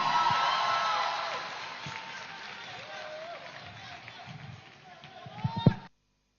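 Audience applause and cheering greet a performer at a live youth festival stage show, a sustained wash of clapping that continues for several seconds before a few louder bursts near the end.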